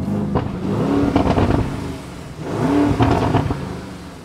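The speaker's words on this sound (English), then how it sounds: "Cause that's when you can hear the exhaust. The exhaust is crazy." A sports car's exhaust revs in Corsa mode, loud and close, rising in two bursts with rough, throaty engine tone and no talk over it.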